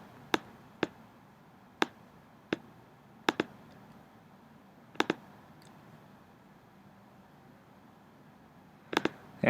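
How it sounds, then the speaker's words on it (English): Computer mouse clicks on lines in drawing software, sharp isolated taps spaced irregularly, some in quick doubles, close and fairly quiet over a low room hum. "Notice I'm clicking on these lines here we don't need."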